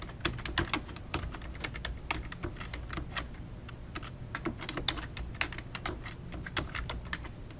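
Rapid, steady typing on a computer keyboard, close and clear, a dense run of crisp key clicks with brief irregular pauses and no voice over it.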